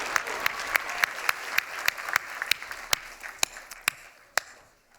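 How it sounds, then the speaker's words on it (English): A crowd at a book awards ceremony applauds a winner, at first dense and lively, then thinning into scattered sharp individual claps that fade out. "Ladies and gentlemen, a huge round of applause for Danny Wallace"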